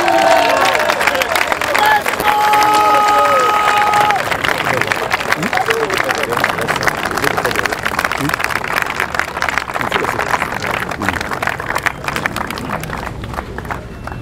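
A church congregation cheering and clapping to acclaim Jesus Christ, a loud, dense crowd roar with applause and scattered shouts that gradually fades over about fourteen seconds.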